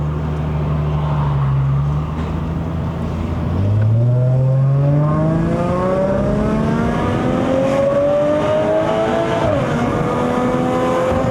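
A Subaru Legacy 3.0R Spec.B flat-six revs loudly in manual mode, a steady drone that climbs through a long pull, eases briefly, then climbs again from the cabin.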